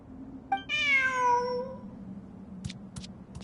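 A single drawn-out meow from a cat in the video game Genshin Impact, set in Sumeru, rising and then falling over about a second. It is close and clear above a low steady hum, followed by a few soft clicks.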